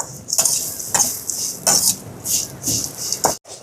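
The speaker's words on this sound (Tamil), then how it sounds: "இப்போ இது எல்லாத்தையும் போட்டு வறுத்தெடுப்போம்." Coconut with mustard seeds, cardamom, cinnamon and cloves dry-roasted in a pan, heard as repeated close scraping and stirring strokes of a spatula against metal in a loose rhythm, with no talking.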